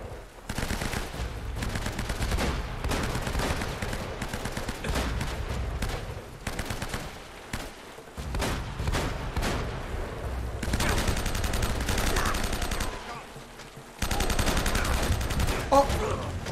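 Sustained bursts of video game gunfire from Uncharted, rapid automatic fire and repeated shots rattling almost continuously at steady loudness, with brief lulls and a louder barrage near the end.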